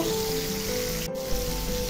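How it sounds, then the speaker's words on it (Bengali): Chicken pieces deep-frying in oil for a KFC-style fried chicken recipe, a steady close sizzle and crackle running throughout with no talk. "তো আমি উল্টে পাল্টে আমি চিকেনগুলো ভেজে নিব।"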